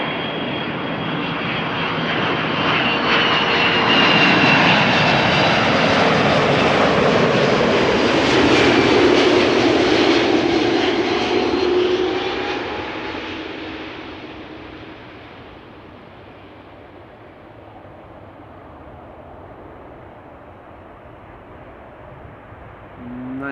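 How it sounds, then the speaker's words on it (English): A KLM Airbus A330-200 wide-body jet arrives at Amsterdam Schiphol, its engine roar swelling loud and close, holding for several seconds, then fading to a distant rumble. "This is KLM flight 765 arriving from Bonaire. A330 200, the PH AOA."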